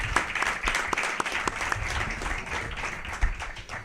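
An audience applauds steadily at a charity discussion event, a dense wash of clapping with a few sharper claps standing out, moderately loud and with no voice over it.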